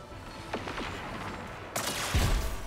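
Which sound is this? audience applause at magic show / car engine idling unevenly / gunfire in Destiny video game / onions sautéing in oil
gunfire in Destiny video game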